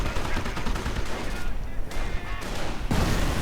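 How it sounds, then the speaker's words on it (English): A mine detonates in a WWII strategy video game amid a dense, loud barrage of gunfire and explosions that continues almost without pause across the clip. "Mine goes off"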